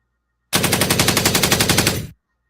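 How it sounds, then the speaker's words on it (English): A rapid burst of automatic gunfire from a sound effect, about 1.6 seconds of evenly spaced loud shots in a steady rattling rhythm that stops abruptly, with no talking. "here's a gunshot"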